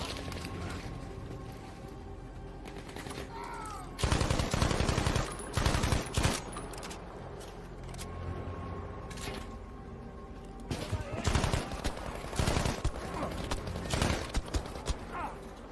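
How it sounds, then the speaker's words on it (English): Gunfire from the video game Battlefield 5 crackles in uneven bursts of rapid shots over a steady background rumble, moderately loud and mixed with other battle noise. "Somebody's shooting me out there."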